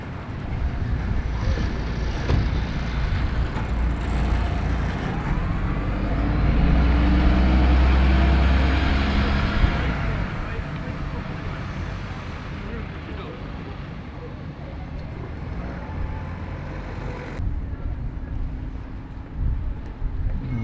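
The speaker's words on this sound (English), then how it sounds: "The bus that was pulling up is not actually departing." Arriva bus in new livery pulling up at a stop in Nuneaton, a loud low engine rumble swelling near the middle amid wind buffeting on the microphone and street noise, then settling to a steady idle.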